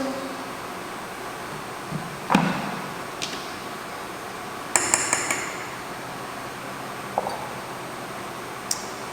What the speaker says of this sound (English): And I'm actually going to whisk this. Whisk it up.